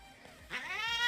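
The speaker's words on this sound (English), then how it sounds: "this cat can talk. It's like gargling." Chunky cat giving a gargling, talking-like meow, a short close warbling call that rises in pitch after a brief low murmur.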